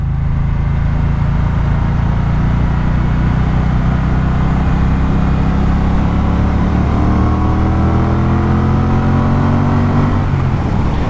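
A Triumph Speedmaster motorcycle engine pulls steadily in second gear, a loud, continuous low rumble with rising harmonics as it gains speed throughout, with no talking.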